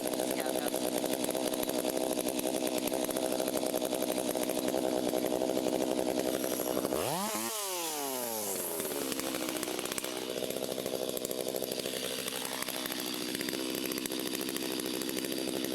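A chainsaw roars continuously while making the angled face cut on a giant tree. About halfway through, the engine pitch dips sharply and climbs again as the bar bites into the wood.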